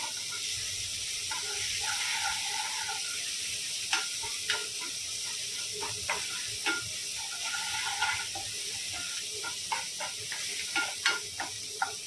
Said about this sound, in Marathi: या मसाल्याला चांगलं परतून घ्यायचं।